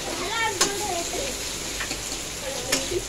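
Onion added to hot oil with a cumin tempering, sizzling steadily at close range under a voice, with a couple of sharp clanks of a utensil against the pan.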